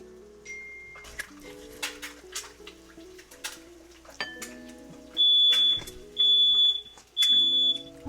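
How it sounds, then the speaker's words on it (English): A home smoke alarm goes off indoors, first with a few faint scattered chirps, then three loud, sharp, sustained high-pitched beeps in quick succession near the end. "It just beeped for a bit and it stopped on its own."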